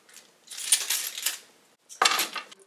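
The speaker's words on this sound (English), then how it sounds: "Trusty keys." A set of keys jangles and clinks in two short bursts, close and fairly crisp, with a brief pause between them and no talk.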